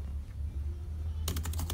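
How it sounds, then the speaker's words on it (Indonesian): Brisk typing on an old laptop keyboard, a dense run of close key clicks that starts suddenly after a stretch of steady low hum and continues to the end. "suara ketikannya padet"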